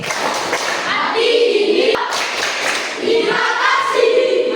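A classroom of schoolchildren claps hands together in thanks, a dense patter of many hands with young voices calling out over it.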